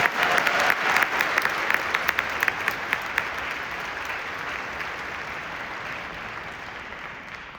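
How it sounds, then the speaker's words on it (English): Concert audience at the Smith Center applauds the Las Vegas Academy of the Arts high school wind ensemble, with a broad, even roar of clapping and a few sharper individual claps early on, then a steady, slightly receding wash. "And yes, clap for them."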